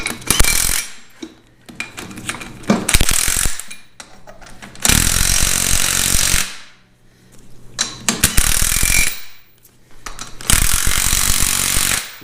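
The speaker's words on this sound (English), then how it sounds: "you want to run all these lug nuts all the way in" An impact or ratchet tool runs lug nuts onto a VW split bus spindle in loud, close bursts of rattling, each one to two seconds long, separated by brief pauses, with four main bursts in all.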